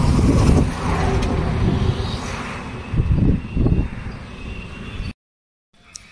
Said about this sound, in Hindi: ये जस्ट बगल से गाड़ी जा रही है